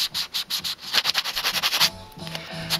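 A coin ring with a reeded edge is rubbed back and forth on sandpaper in quick, even rhythmic strokes, close and crisp, before the scraping slows and stops.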